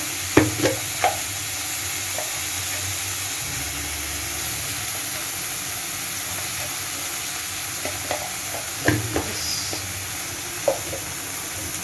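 Capsicum frying with turmeric in a pan gives a steady, close sizzle and hiss throughout, broken by a few light clinks and scrapes of stirring; no one speaks.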